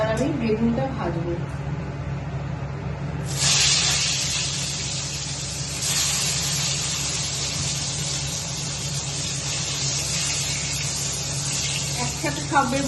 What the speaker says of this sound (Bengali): এবার আমি বেগুনটা ভাজবো।